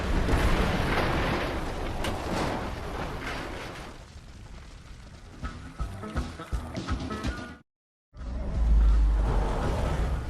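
A place is blown up in an action film, with roaring blasts and rumbling debris in a loud, dense wash, then rattling clatter, a brief dead silence, and another heavy boom.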